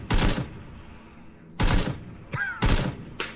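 Gunfire in the video game PUBG comes in three loud, close bursts of rapid shots, separated by short pauses and followed by a few quieter rustling sounds.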